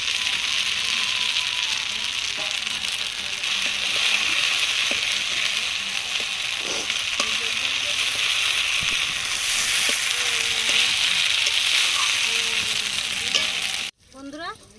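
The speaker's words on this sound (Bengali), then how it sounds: "এবার লেগ পিস দুটো দিয়ে দেবো, দিয়ে কিছুক্ষণ কষিয়ে নেব।" Two pre-fried chicken leg pieces sizzle steadily in a pan of cooked-down spices over low heat, with continuous frying hiss and frequent scraping stirs close by, ending in a sudden cut.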